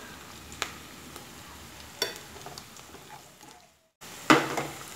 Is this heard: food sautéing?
yes